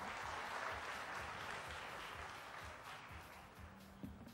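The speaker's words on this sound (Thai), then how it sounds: "ปรบมือให้คุณ Andy หน่อยค่ะ" Audience applause at a beauty school fashion show, sustained steady clapping from a large crowd that tapers slightly toward the end.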